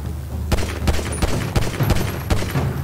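Rapid bursts of gunfire in GTA 5 during an assassination scene, several sharp shots spaced irregularly over a steady game background, loud and close.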